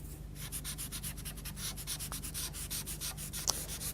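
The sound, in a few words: rubbing white pastel over a drawing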